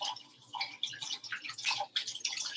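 Running water rinsing fresh basil, a splashing, uneven stream with soft drips and patters, close and moderately quiet.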